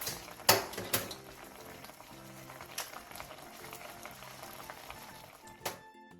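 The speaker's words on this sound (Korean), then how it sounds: "국물이 바글바글 끓어오르면 중약불로 줄여 15분 정도 졸여주세요" Korean braised tofu simmering in its broth, the liquid bubbling steadily in a pan with soft continuous popping and a few sharper clinks and knocks, heard close with no voices.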